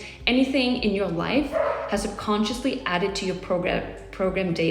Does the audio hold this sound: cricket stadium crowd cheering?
no